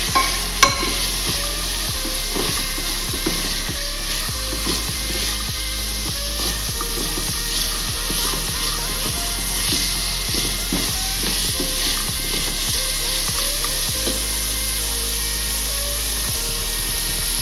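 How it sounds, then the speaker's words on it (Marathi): Chillies, carrots and peas being sautéed in a pan for veg pulao: a constant close sizzle with repeated scraping and stirring strokes of a spoon at an irregular pace, and nobody talking. "मिरची गाजर वटाणे तसे जर आपण परतून घ्यायचं"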